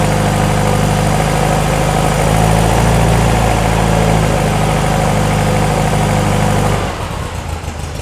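A VW engine in a Porsche 356 Speedster kit car idles on a cold start, a loud, close, even rumble that holds for about seven seconds and then drops away abruptly.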